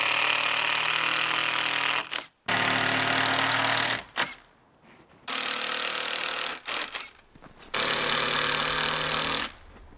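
A power tool drives screws into the frame of a budget winter cabin, loud close bursts of buzzing motor whir separated by short pauses and quieter gaps.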